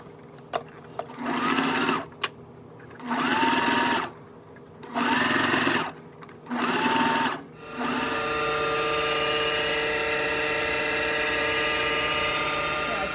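A sewing machine top stitches a fabric bag in four short bursts, then runs in one steady, unbroken stretch to the end, close and clear with no talk.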